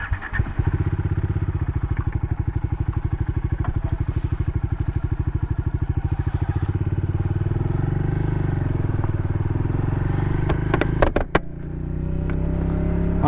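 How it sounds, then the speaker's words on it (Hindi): A Bajaj Dominar motorcycle fitted with aftermarket shrouds runs steadily while being ridden, its loud engine putting out a rapid, even thumping pulse that turns into a broader, continuous roar midway, with a brief clatter near the end. "but थोड़ा सा बाइक को लेके चलते हैं।"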